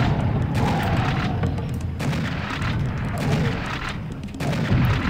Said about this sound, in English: He's got a grenade launcher.